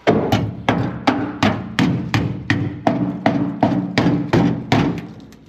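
Steady series of sharp metallic hammer blows on rusted body metal of a 1970 Chevelle convertible, about two per second, close and loud with no talking.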